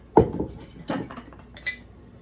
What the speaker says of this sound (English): we're gonna put our lid on like this and then back it off so it has room to breathe